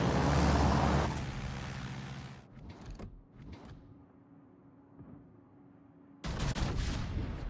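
Warship naval guns firing in World of Warships, a heavy booming blast at the start followed by quieter rumbling and a few scattered thuds, then another loud burst at the end.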